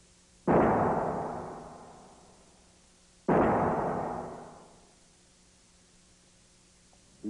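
Two loud, sudden bangs about three seconds apart as a Boeing 747 wing breaks in a strength test, each a sharp crack that rolls off into a long, fading rumble, like a massive structure snapping under load.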